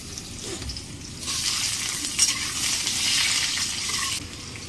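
Potatoes go into hot oil with dry chilli and bay leaf, a quiet start giving way to a sudden loud hissing sizzle that holds for about three seconds before easing off, close, no talking.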